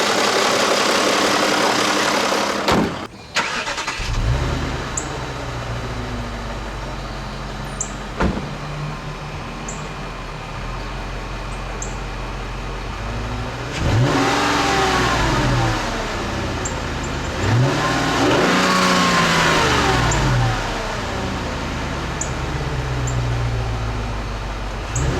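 A 2004 Volkswagen Touareg's 4.2 liter V8 idles with a steady low rumble, then revs up twice in rising and falling sweeps, heard close and alone without talk.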